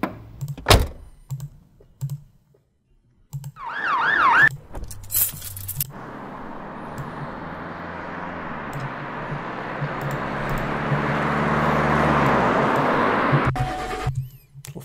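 A car-driving sound effect fades in, building to a steady broadband road and engine rumble that swells gradually and cuts off near the end, preceded by scattered clunks, a jangle and a rising mechanical whine.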